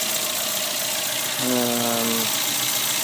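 A 1973 Volvo 142's 2-liter four-cylinder engine with a single Stromberg carburetor runs at idle, a loud, steady mechanical drone that thickens with a low hum partway through.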